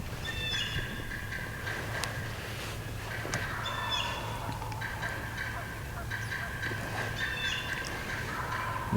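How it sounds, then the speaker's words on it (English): A wild turkey gobbles in open woods during a Michigan spring hunt. The loud, rattling gobbles come several times across the clip, at a moderate distance, over a low steady background hum. "We were able to go to another turkey that was gobbling."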